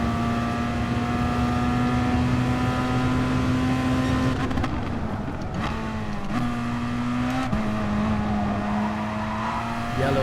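Race cars in a racing video game roar at close range with a steady high engine drone, shifting pitch as one is rammed by a gold Toyota or Lexus with TRD stickers, with a few brief knocks of contact.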